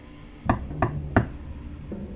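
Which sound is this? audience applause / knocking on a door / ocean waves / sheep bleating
knocking on a door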